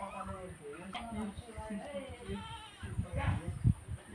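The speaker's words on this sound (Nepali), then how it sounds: "बाख्रा निकाल्न आँट्नु भएको" Goats bleat several times at close range as they are led out in the morning, mixed with a person calling and talking over them.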